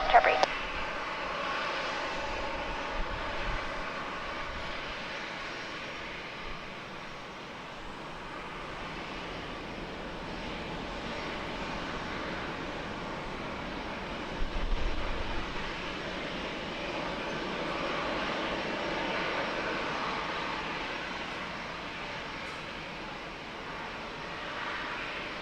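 An Alaska Airlines Boeing 737-800 jet takes off at San Diego Airport, a faint, distant, broad rumbling roar that swells and fades, with tower radio chatter over it.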